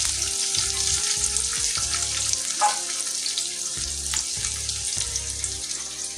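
Chopped onions fry in hot oil in a pan for a tilapia curry with potato and eggplant, giving a steady bright sizzle broken by regular low scraping strokes, with no talk.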